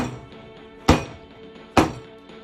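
Two sharp, solid thunks a second apart as a metal loaf cake tin filled with batter is knocked firmly on a countertop, with quiet room noise between.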